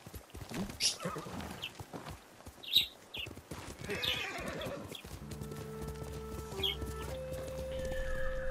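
A horse in the video game Ghost of Tsushima whinnies and neighs over steady clip-clopping hooves, with soft game ambience and a sustained musical tone rising in the background toward the end.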